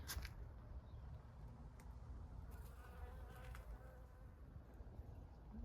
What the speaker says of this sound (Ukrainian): бджілки літають